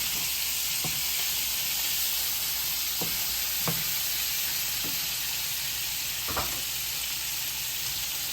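Leeks and green onion are stir-fried in a hot pan for beef curry and mixed noodles, a loud continuous hissing sizzle broken by several soft knocks and scrapes of stirring, with no talk.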